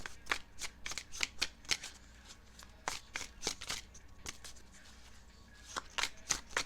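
Tarot cards are shuffled with a rapid run of crisp riffling flicks and slaps, close and continuous, in a quiet room.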